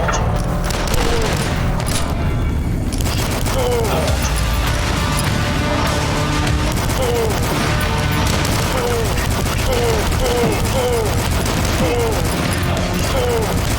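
Gunfire from the first-person shooter DUSK, a dense rapid barrage of heavy booming shots and impacts layered over game music, loud and continuous throughout, with no speech.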